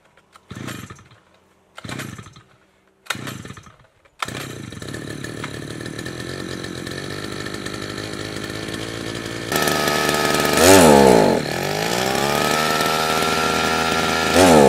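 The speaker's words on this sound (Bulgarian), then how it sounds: "ще се опитам да си запаля бензиновата косачка" A petrol lawn mower is pulled several times, each short sputter dying out, before the engine catches and runs steadily, then revs higher with its pitch surging and dropping unevenly, as if losing power under throttle.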